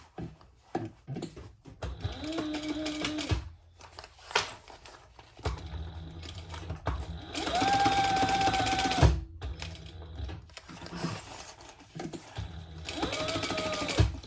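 A sewing machine top stitches a sling bag in several running bursts, each a steady whirring drone of rapid needle strokes separated by short pauses and small handling clicks, close and fairly loud with no talking.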